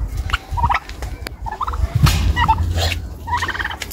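Several turkeys gobble in a farmyard setup, with repeated short bursts of clucking calls spread across a few seconds, near and fairly loud over low background rumble.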